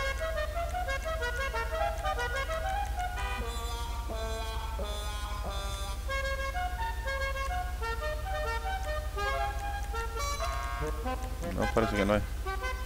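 Melodic musical car horn from GTA 5, sounding a run of tuned notes that repeats steadily across the clip, with a voice talking near the end.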